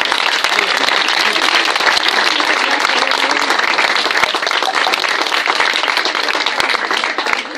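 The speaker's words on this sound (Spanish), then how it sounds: "Ahora sí, ahora sí, aplausos." Loud, sustained applause from a large crowd at an athletics club celebration, thick continuous clapping with no pause across the whole span, a few voices faintly underneath.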